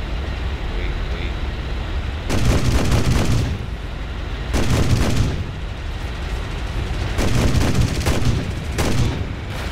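Cannon fire from a Yak-9T fighter in War Thunder, three loud sustained bursts of rapid automatic shots separated by steady engine drone, with a voice talking in the background.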